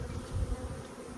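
A low, steady buzz from a honeybee swarm hums throughout nearby, with a slight swell partway through.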